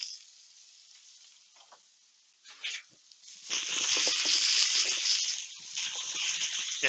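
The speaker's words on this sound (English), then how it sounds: "Checking on my potatoes. Sometimes they need a little bit of a stir." Potatoes sizzle and fry in a pan, quiet at first with brief scrapes of stirring, then a louder, steady hiss builds and continues close by.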